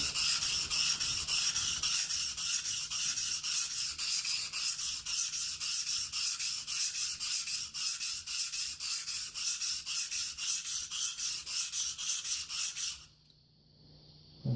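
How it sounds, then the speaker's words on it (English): A brand new Gold Dollar 66 straight razor is honed on a sharpening stone to set the bevel, giving steady, rhythmic rasping strokes back and forth for about thirteen seconds before stopping abruptly into near silence. "I can grind more off of the toe than the heel"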